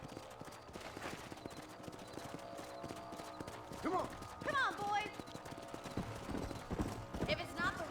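Horses clip-clop along at a trot on a ranch in Red Dead Redemption, a steady run of hoof beats under in-game music, with a brief whinny and a man calling out to the riders.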